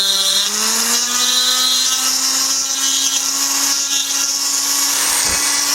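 A Foredom power carving handpiece cutting wood, held at a low angle in a drag stroke: a loud, steady high-pitched motor whine that rises slightly in pitch, with a gritty cutting rasp, close and continuous.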